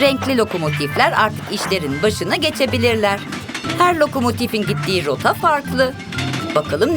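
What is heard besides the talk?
No everyday noise stands out behind the speech.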